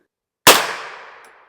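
A single suppressed 9mm shot from a CZ P-09c pistol fitted with an AB F4 suppressor fires subsonic hollow-point ammunition outdoors, a sharp close crack that decays into a quick fading tail, then silence.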